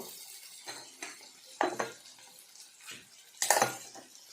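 Tilapia fish curry stirred in a pan with tomato, soft clinks and scrapes of a spoon against metal in a few separate bursts over a faint low sizzle, close and fairly quiet.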